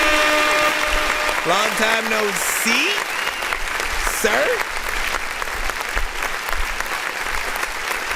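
Canned applause from a sound-effect button runs as a continuous clapping bed for the whole stretch, while someone talks over the first part of it.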